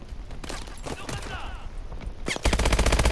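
Enemy gunfire in Call of Duty: Advanced Warfare starts with scattered single shots and swooshing effects, then turns into a loud, rapid automatic burst near the end.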